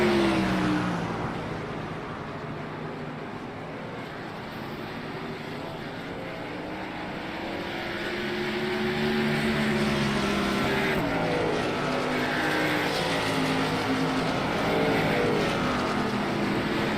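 Race cars circling Talladega superspeedway in a racing video game, a continuous engine roar with rising and falling pitched whine as cars pass, swelling louder toward the end.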